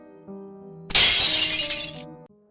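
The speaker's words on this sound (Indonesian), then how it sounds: "Suara piring pecah." A thrown dinner plate smashes loudly in a home kitchen, a sudden bright crash of shattering pieces lasting about a second over soft background music in a dramatized story.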